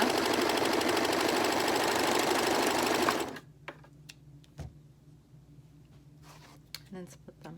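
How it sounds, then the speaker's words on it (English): A sewing machine stitches fabric mask pieces in a fast, loud, steady run for about three seconds, then stops, leaving quiet handling clicks and taps. "rather than trimming between, I usually just sew both"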